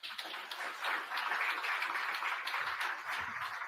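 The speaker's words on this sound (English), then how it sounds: "A warm round of applause for him." Sustained applause from an audience at a formal speech event in Nairobi, a dense, steady wash of clapping that stays fairly loud throughout with no voices on top.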